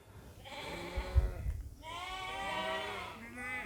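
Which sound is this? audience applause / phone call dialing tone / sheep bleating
sheep bleating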